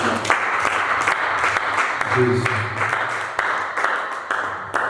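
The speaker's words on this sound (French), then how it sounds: "Acclame encore Jésus." A church congregation applauds during a worship service, sustained clapping filling the room throughout with voices mixed in beneath it.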